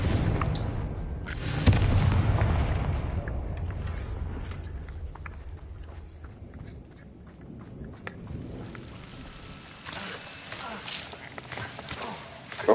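Confringo blasting spell in Hogwarts Legacy bursts with a loud boom early on, followed by rumbling combat noise, scattered impacts and footsteps, with a sharp hit right at the end.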